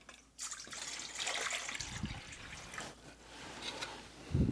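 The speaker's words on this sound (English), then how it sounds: "the first thing we're going to do is we are going to add the water to the bowl" Water pours into a bowl in a kitchen while making hummus, a soft close trickle and splash with a couple of light knocks, quiet and uneven throughout.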